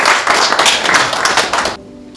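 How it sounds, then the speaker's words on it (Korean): An audience of pastors claps to welcome an author at a political endorsement gathering, a dense burst of applause that holds steady and then cuts off abruptly near the end. "박수 한번 주십시오."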